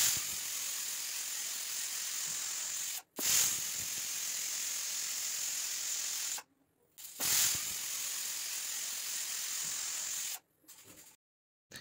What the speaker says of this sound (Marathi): हे पहा, आपल्या कुकरच्या 3 शिट्टे झालेल्या आहेत. पूर्णपणे वाफ देखील गेली आहे